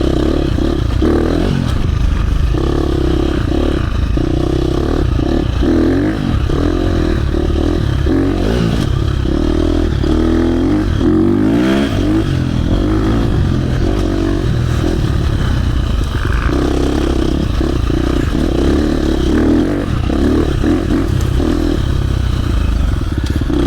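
A KTM 350 four-stroke dirt bike, either the 2024 SX-F or the 2025 XC-F, rides through the woods with a loud, continuous engine drone that rises and falls with the throttle, alongside clattering and scraping from the trail.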